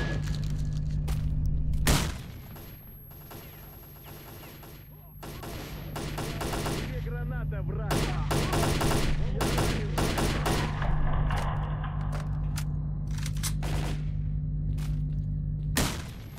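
Gunfire and grenade blasts in a STALKER Call of Pripyat battle: loud rapid bursts of automatic fire and sharp shots, with heavy thumping explosions spread across the fight.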